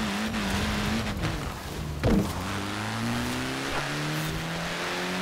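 Car engine in a video game, droning steadily and revving up with rising pitch, with a brief thump near the middle and continuous motor noise throughout.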